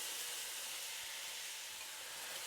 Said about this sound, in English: Then into that we're going to add some finely diced onions